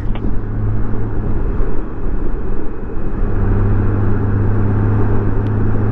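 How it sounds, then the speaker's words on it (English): A logging truck carrying redwood or cedar logs passes on a road through the redwood forest north of Arcata, a loud steady engine rumble and road roar lasting throughout, heard from a moving vehicle with no talk. "There's a logging truck."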